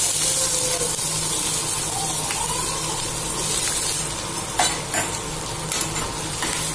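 Onion and asafoetida crackle and sizzle in hot refined oil, a dense, steady frying hiss close by with a few brief stirring clatters and no talking.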